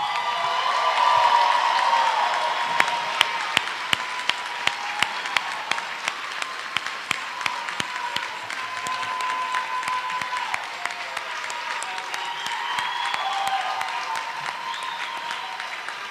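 A large crowd at a 2021 NCTC commencement ceremony bursts into sustained applause congratulating the graduates, dense clapping filling the hall with scattered louder individual claps throughout.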